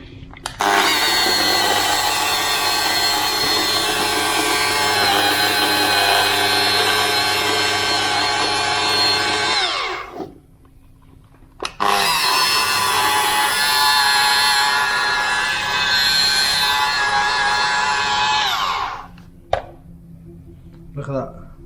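A pad washer spins to clean out a dried polishing pad, whirring loud and steady in two long runs of about ten and eight seconds, split by a brief quiet pause with a sharp knock.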